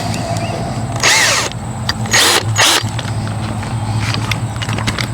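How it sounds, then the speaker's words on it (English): A 3/8 inch power drill fitted with a 1/2 inch bit whirs in several short bursts, close and loud, over a steady background hum. "3/8 inch drill will drill."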